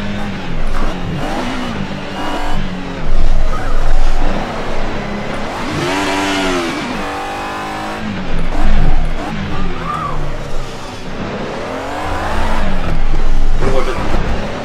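An Alfa Romeo 155 V6 Ti rally car with four-wheel drive in Assetto Corsa roars through loud revving, rising and falling gear shifts, with tyre noise beneath, close and continuous throughout.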